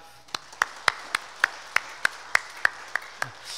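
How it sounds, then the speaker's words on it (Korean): A church congregation claps in unison during a Sunday service, making sharp, evenly spaced claps about three times a second over a quiet room. "우리 감사 찬송 영광의 박수를 하나님께 올리겠습니다"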